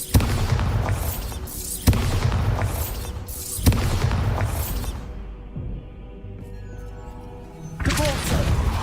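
Bombarda blasting curses in Hogwarts Legacy go off as three loud, booming explosions, each a sharp thud with a rumbling tail. A quieter stretch follows, then another blast near the end.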